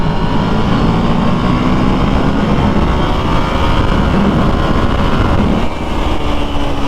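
KTM Duke 890R motorcycle engine pulling hard on a test ride, a steady loud broadband drone with wind rush and a rising pitch under acceleration, then a brief dip near the end before the engine picks up again.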